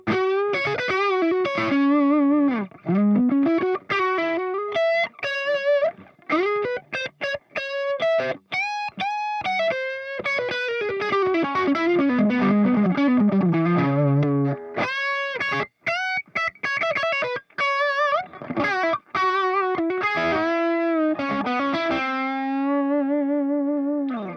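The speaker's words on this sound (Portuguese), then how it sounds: "ligar esse overdrive com o drive baixinho, o volume no máximo e um pouquinho de tone para ter um som bem típico de blues" Blues-style electric guitar through an overdrive pedal set to low drive, full volume and a little tone, playing a long run of bent notes, quick licks and sustained phrases with mild grit.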